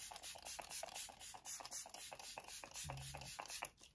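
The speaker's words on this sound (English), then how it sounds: "And then I always put it spray on my pillow as well before I get into bed." Short bursts of a lavender sleep mist sprayed onto a pillow at bedtime, a close series of quick hissing puffs with faint handling noises and no talk.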